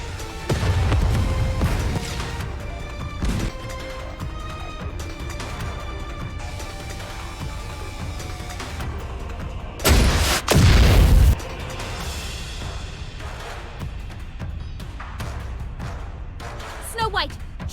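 Artillery shells explode in the Nikke: Goddess of Victory game, with deep booms early on and one heavy burst near the middle, under game music and voiced dialogue.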